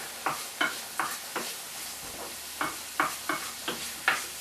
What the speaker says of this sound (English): And then stir the pasta back into the mushrooms, keep stirring that